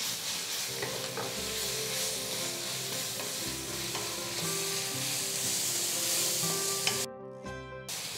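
Grated raw mango with curry leaves, turmeric and spices sautéing for mango rice, a steady close sizzle with spoon scrapes, briefly cut off near the end.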